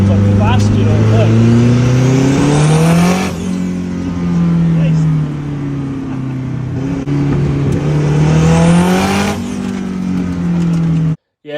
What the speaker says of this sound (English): We'll start her up and see how she goes. This new turbo comes up fast, you know, look.